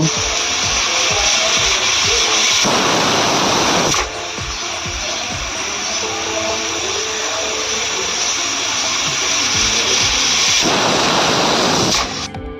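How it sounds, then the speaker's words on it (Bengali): A pressure cooker with jackfruit curry inside lets out its steam whistle. A continuous hiss runs throughout, and two louder, sharper whistling bursts rise above it, one early and one near the end. "এরপর প্রেসার কুকারে 2 থেকে 3টে সিটি দিয়ে নেব।"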